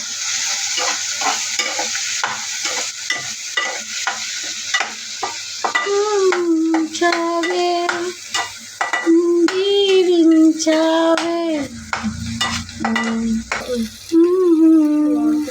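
A spoon stirring and scraping egg masala curry in a pan in short, repeated strokes over a soft sizzle, with a voice sounding intermittently over it.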